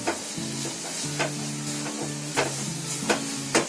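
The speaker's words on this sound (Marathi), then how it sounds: "मग आता 2 सेकंड मी फिरवते. गॅस फुल केलाय." Coconut filling for modak is stirred in a hot pan on full flame, giving a steady sizzle with repeated rhythmic scrapes of a spoon against the pan, close and clear, with no talk.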